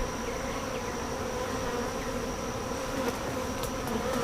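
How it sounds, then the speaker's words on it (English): Honeybee swarm settling on a tree branch: a dense, continuous buzzing hum, steady and moderately close, with no voices. "There's a swarm settling in on top of that tree branch there"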